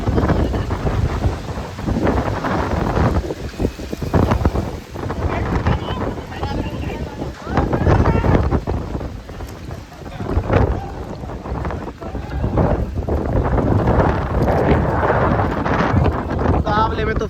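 A storm's wind blasts across an outdoor cricket match ground with trees around, a loud, continuous roar buffeting the microphone for the whole stretch, with people talking under it.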